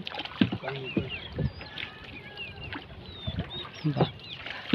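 A rowing boat moves along a river in Assasuni, Satkhira, its oars splashing in a steady rhythm about once a second. Bird chirps sound faintly overhead and voices murmur in the background.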